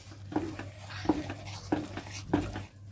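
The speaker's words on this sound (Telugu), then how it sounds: "కొత్తిమీర వేసుకుని కలుపుకోవాలి" A spoon stirs chopped coriander into a pot of pongal with about five evenly spaced scraping strokes against the pot, each a short clink over a low steady hum.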